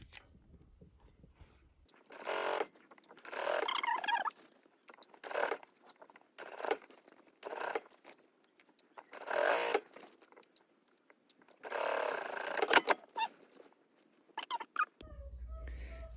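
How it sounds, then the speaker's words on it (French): A sewing machine stitches a dress sleeve seam one centimetre from the edge, quiet bursts of rapid mechanical whirring separated by short pauses, starting and stopping repeatedly. "Maintenant, je vais passer à la machine. Je vais coudre à 1 cm du bord."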